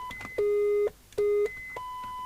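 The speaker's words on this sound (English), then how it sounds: "Let's put some tones on." Steady electronic test tones from the internal speaker of an Alba CBM5 UK FM CB radio under repair, a high whistle then two loud lower sustained beeps with short gaps, ending on a higher tone, with no talk.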